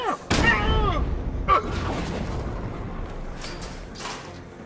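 A grenade detonates in Batman: Arkham Knight with a sudden close blast followed by a second thump, while game voices talk over the rumbling aftermath.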